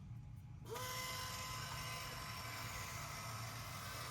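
An Omlet smart automatic chicken coop door closes: after a brief quiet moment a small motor starts with a faint rising whine, then hums steadily and quietly until the end.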